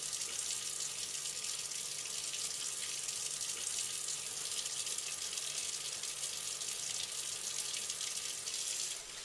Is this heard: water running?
yes